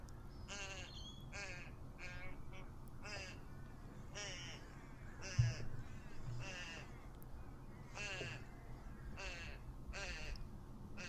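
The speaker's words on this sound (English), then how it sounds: "That bird." Bird calls out in the open during a motorcycle ride, repeated harsh cawing notes in a steady rhythm, about a dozen calls over a constant low background rumble.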